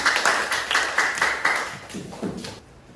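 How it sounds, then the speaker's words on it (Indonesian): A small classroom group claps briefly for a student, a short burst of scattered hand claps that quickly fades into quiet. "Tepuk tangan untuk kawan kalian."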